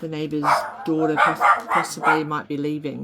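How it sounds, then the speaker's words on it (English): Several dogs bark in short, repeated bursts close by, some sharp yips among them, while a person talks over the barking. "Sorry about the dogs."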